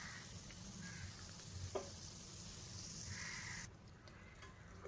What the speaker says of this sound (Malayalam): അപ്പോൾ എണ്ണ ഇവിടെ നല്ലപോലെ തിളച്ച് വരുന്നുണ്ട്.